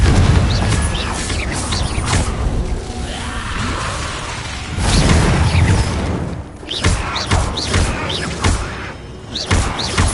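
The Confringo fire-blast spell is cast in Hogwarts Legacy, giving heavy booming impacts with whooshes and thuds in a dense, loud gameplay mix. Repeated explosions are layered over rumbling background sound.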